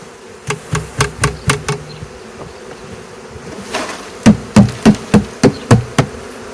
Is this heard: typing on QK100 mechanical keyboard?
no